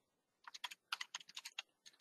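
Quiet, quick bursts of keyboard typing, a few irregular clusters of keystrokes after a brief silence, close and light.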